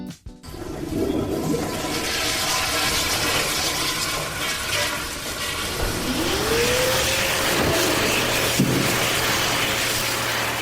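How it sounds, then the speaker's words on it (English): Automatic toilets flush in a public washroom with a rushing, echoing surge of water, followed by the rising whine of a touchless hand dryer spinning up and blowing steadily. "They're automatic flushing toilets and touchless hand dryers in public washrooms."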